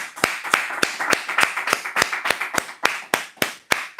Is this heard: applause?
yes